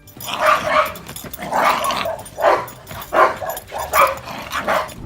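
A large Dogo Argentino, a heavy breed of around 100 pounds originally bred in Argentina for fighting, barking loudly and close in a steady series of about seven deep barks.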